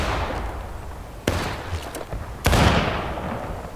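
Gunfire crackles across a War of Rights battlefield, a steady wash of noise broken by two sharp close shots and a few quieter distant reports.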